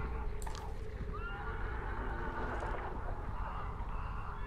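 A horse whinnies in the distance amid a steady, noisy outdoor soundscape in the video game Hunt: Showdown, with low rumbling throughout.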